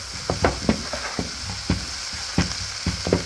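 Okra fries in a pan with a steady close sizzle, punctuated by irregular scraping stir strokes and soft clatters over several seconds.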